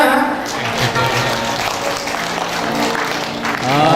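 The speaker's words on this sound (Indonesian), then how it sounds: "Boleh tepuk tangannya." Wedding guests clapping steadily at a church ceremony, a loud, dense wash of applause throughout with voices mixed in.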